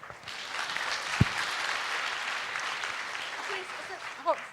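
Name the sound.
audience applause for a student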